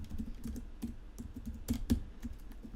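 Steady clicking keystrokes on a computer keyboard while code is entered, close and distinct, with a few harder taps near the middle and no talking.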